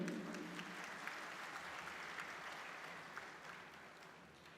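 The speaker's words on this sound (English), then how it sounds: "A huge round of applause, ladies and gentlemen." Faint, even applause from a convocation audience in Bangalore rolls on steadily throughout, sounding distant and low in level.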